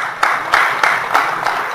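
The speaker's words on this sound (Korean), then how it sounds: "박수 한번 쳐주시고 박수" Audience applause at a public hearing in Gwangju, a steady wash of clapping with regular, rhythmic louder beats across under two seconds, moderately loud and without speech.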